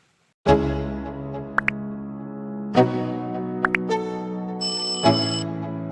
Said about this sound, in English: Turn on your post notification bell for new videos to come.